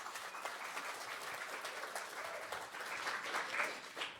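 An audience at an evening arts talk gives a round of applause for the host and moderator, continuous crowded clapping of even strength that swells slightly near the end.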